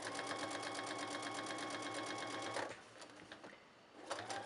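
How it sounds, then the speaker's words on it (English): A sewing machine rapidly stitches along the seam of a fabric surgical cap, a fast, even mechanical chatter for about two and a half seconds, then a few slower, quieter stitches, close by. "I'm just going to stitch right along the ditch of that seam"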